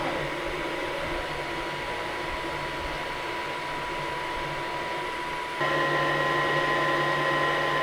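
A MOVA M10 wet-dry vacuum running its self-cleaning cycle, a steady close mechanical whir and hum that steps up slightly louder and higher partway through, with no voices.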